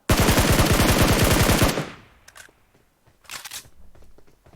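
A rapid burst of automatic gunfire in the mobile game PUBG Mobile rattles out loudly for nearly two seconds and then stops, followed by a few faint clicks and shuffles.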